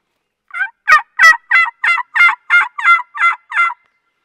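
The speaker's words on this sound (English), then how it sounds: "friend of mine, Carl Brown, he always made a pill bottle call" A homemade pill bottle wild turkey locator call gives ten loud, sharp yelps in a steady, evenly spaced series. The call is close and heard alone.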